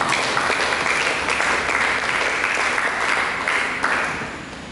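A church congregation applauds for Jesus during a sermon, broad sustained clapping from a large crowd filling the room, steady and loud before easing off slightly at the end.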